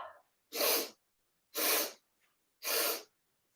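Three sharp, forceful breath bursts, each about half a second, evenly spaced with short silences between, close and loud with no talking.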